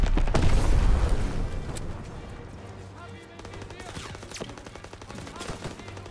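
Sustained automatic gunfire from a World War II battle in Call of Duty: WWII on Veteran difficulty, dense rattling bursts and booms loudest at the start, then continuing steadily with lighter shots through the rest.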